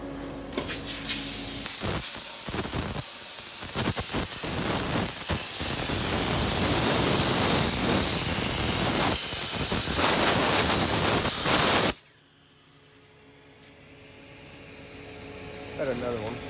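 An AKS Tru-Kut 5' x 10' hi-def plasma cutting system cuts a 4-inch circle. A loud, steady roaring hiss with a thin high whine runs continuously for about ten seconds, then cuts off abruptly into quiet.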